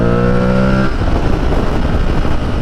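Aprilia Tuareg 660 motorcycle engine revving high and loud up close, then dropping abruptly as it speed shifts up into a rougher, lower drone.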